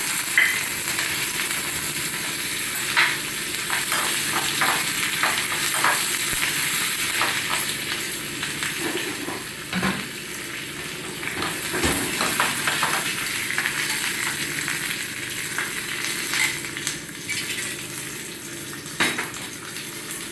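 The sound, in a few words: spices sizzling in hot oil, tempering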